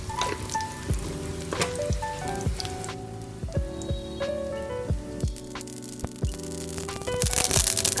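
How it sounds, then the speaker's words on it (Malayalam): Mustard seeds sputtering and popping in hot oil for a Kerala sambar, a dense run of sharp crackling pops over a steady sizzle, close and fairly loud, swelling into a louder burst near the end, with no talking. "ആദ്യമേ കടുക് ഇട്ടു."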